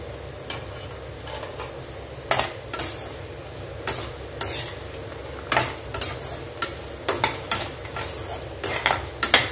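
Drumstick, radish and carrot stir-fried in oil, with a steady low sizzle broken by repeated sharp scrapes and clatters of a spoon against the pan, coming in irregular bursts through the second half.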